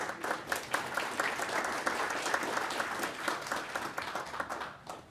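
Sustained applause from a conference audience greets a lunch keynote speaker at a Volatility and Risk Institute event, with many hands clapping steadily at moderate volume for the full stretch and no talking over it.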